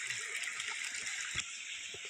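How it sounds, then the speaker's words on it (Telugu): Water streaming steadily down from a hill at Udayagiri, a faint, continuous rushing hiss with no clear breaks, heard alone at a distance. "ఎప్పుడు నీళ్లు వస్తూనే ఉంటాయి ఈ కొండ నుంచి."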